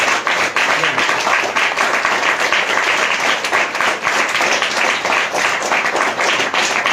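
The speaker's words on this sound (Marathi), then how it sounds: "जोरात टाळ्या वाजा." A prayer-meeting congregation claps hard and continuously, a thick, loud wash of hand claps with faint voices mixed underneath.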